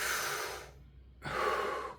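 Slow, close breathing during a meditation exercise, with the breath directed down into the lower belly. Two soft, airy breaths are separated by a short silent pause, and no one speaks.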